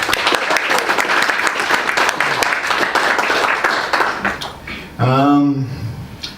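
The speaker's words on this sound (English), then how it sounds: "So if we can give him a round of applause." An audience at an open mic night gives a hearty round of applause, loud and steady for about five seconds before fading as a voice starts speaking.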